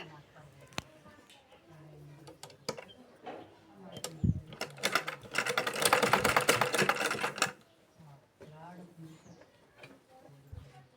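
A sewing machine stitches a blouse, running in a steady mechanical burst near the middle of the clip, with softer clicks and handling sounds before and after and a voice talking intermittently.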